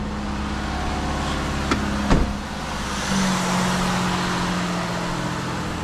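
A Ford Escape engine idles steadily and close by after an exhaust manifold gasket replacement, a constant low hum with a faint lifter tick. A brief knock sounds partway through.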